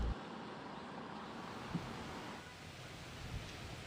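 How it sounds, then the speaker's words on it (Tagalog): Rain and strengthening wind sweep the coast at Pagudpud during a storm, a faint, steady wash of broadband noise with a few soft bumps and no talk. "nararamdaman na po natin dito sa Pagudpud yung pagbuhos ng ulan at lumalakas na po ng ang kaunti ang hangin dito"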